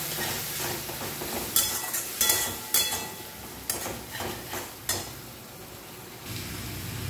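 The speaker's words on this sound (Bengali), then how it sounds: "অল্প জল দিয়ে দিয়ে এখন আরও কষা হবে।" Chopped tomato and spices cook down in a pan with a splash of water for a cauliflower and potato curry: a continuous moist sizzle broken by several distinct scraping and knocking stirring strokes, close and fairly loud.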